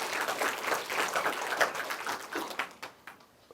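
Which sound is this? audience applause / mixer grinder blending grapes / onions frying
audience applause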